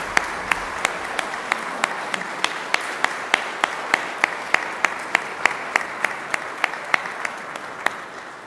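An audience at a school awards assembly claps steadily for students offered scholarships, a dense, even wash of applause with distinct sharp hand claps standing out in a regular rhythm, moderately loud and unbroken.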